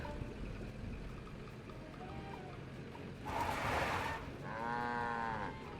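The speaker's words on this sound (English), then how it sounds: "A cow." A cow lows twice at the dairy in a Nancy Drew video game, the second moo long and drawn out, both fairly close over a quiet background hum, with no talking.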